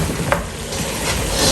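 Meat loud and close as it sizzles in a pan, a dense, constant frying hiss with a sharp scrape or tap from stirring, no talk.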